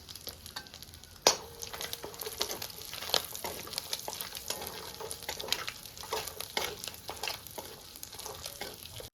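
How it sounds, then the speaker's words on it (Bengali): Cumin seeds, bay leaf and dried chili crackle in hot oil in a pan, a close, bright sizzle with scattered spitting pops and stirring scrapes, one sharp clack early on. "এবার এই তেলেই আমি ফোড়ন দিয়ে দেবো, জিরে ফোড়ন দিয়ে দিচ্ছি, তেজপাতা"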